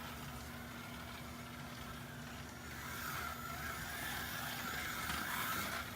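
A Policar GT86 slot car running on a wooden track with a mild motor gives a continuous, faint electric whir and rolling hum that swells a little halfway through, steady with no voices.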